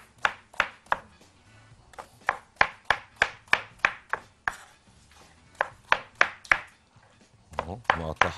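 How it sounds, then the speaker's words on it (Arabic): Knife chopping mango into cubes on a board, a rapid series of sharp, close chops in uneven bursts with short pauses between groups. "نقطع كده ايه منجتين اتنين عشان نبدا نعمل طبق الكشري بقى الحلو"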